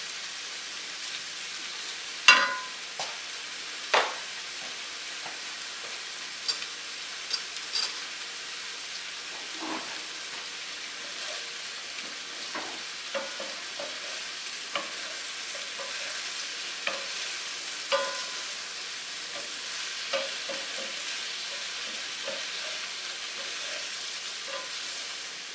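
Shrimp for kung pao shrimp frying in a hot pan with a steady sizzle, broken by scattered clicks and scrapes of stirring, louder near the start and then settling into a continuous hiss.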